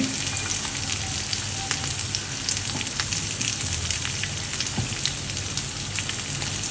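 Small flour-coated fish sizzle in a hot pan, a dense, even crackle with spitting pops that holds steady at close range and has no talk over it.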